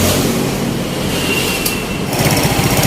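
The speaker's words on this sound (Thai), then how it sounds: "ตอนนี้ก็ติดเครื่องแล้วครับ" A Yamaha Nouvo Elegance scooter engine runs steadily close by after repair, a buzzing drone that grows slightly louder and rougher toward the end.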